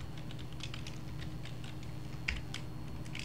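Code is typed on a computer keyboard, making soft scattered key taps in quick bursts under a steady room hum. The tapping is faint and close, with no speech.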